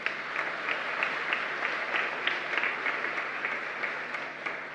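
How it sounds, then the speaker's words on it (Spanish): A congregation at a church Mass in Asunción applauds with steady, even clapping that keeps going throughout, heard from a slight distance with no talking over it. "Un fuerte aplauso para ustedes."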